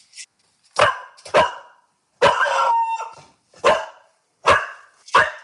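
Several loud, sharp dog barks close by, coming in separate bursts with short quiet gaps, one longer drawn-out bark in the middle, indoors with no talking.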